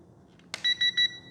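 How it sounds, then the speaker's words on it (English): A radio transmitter for an Eachine P-47 Razorback 500mm RTF plane gives three short, clear electronic beeps in an even rhythm, preceded by a soft click, with no talking. "And there is a beep feedback."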